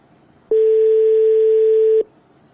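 A single telephone ringback tone sounds during an outgoing call, one steady, even purr lasting about a second and a half that starts and stops cleanly against quiet background hiss.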